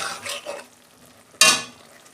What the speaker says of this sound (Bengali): এইগুলো আমি একটু কষে নিই সবজিগুলো